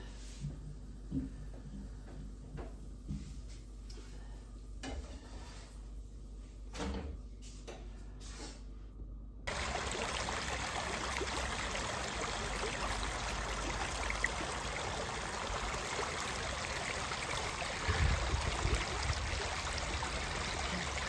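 A small stream flows in Zakopane, a steady close rush of water filling the second half after a quieter opening with scattered knocks and clicks.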